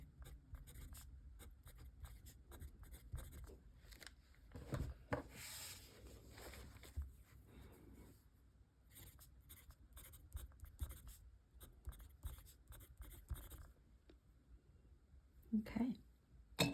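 A fountain pen nib scratching across paper in short strokes and pauses, close and faint, with soft rubbing texture and occasional quiet talk.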